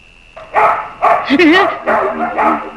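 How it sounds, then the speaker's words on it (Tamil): Dogs bark in a few sharp bursts, mixed with a whimpering yelp, while people talk over them in a comedy scene. "அம்மா, நாய் நம்ம நாய்ங்களா இல்ல போலீஸ் நாய்ங்களா?"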